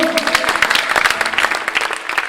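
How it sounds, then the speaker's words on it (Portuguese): A church congregation breaks into loud, sustained applause, many hands clapping together in a dense, close wash of sound for a couple of seconds. "Aplaudam o Senhor."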